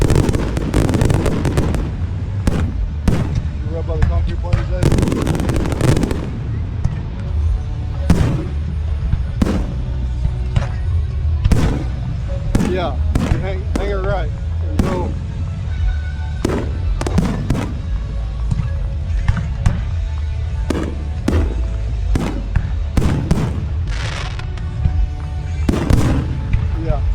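Fireworks at a 250-year anniversary show, a dense run of loud booming explosions and crackling bursts following one another steadily, with some voices in the crowd.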